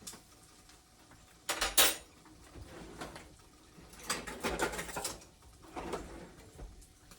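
Butter and flour being stirred into a roux in a pan, with irregular scraping and clinking bursts of a utensil against the pan, moderately close and without speech.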